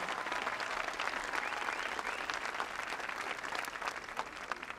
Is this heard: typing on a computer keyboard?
no